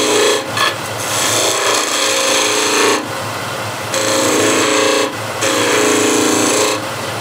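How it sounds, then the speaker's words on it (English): A woodturning tool cuts relief grooves into spinning wood on a lathe, giving a loud, continuous rasping scrape that breaks briefly between passes, close up with no voices. "So let's say I want to roll a bead, so I want to make relief cuts here."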